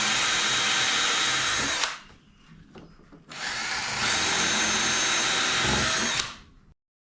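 A power driver with a special bit drives screws into the timber of a bike rack that holds four bikes. It whirs loudly in two long bursts with a short pause between them, and there is no talk.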